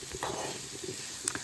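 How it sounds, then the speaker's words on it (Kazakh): Onion and grated carrot sizzling in a little oil in a pan, a steady close frying hiss with faint stirring scrapes. "Табамызға кішкене май құйып, жуа салып және де үккіштен өткізілген сәбізімізді салып жақсылап қуырамыз."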